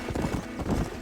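Horse hooves clip-clopping in the Red Dead Redemption video game, a short steady run of close hoof beats with a low rumble underneath.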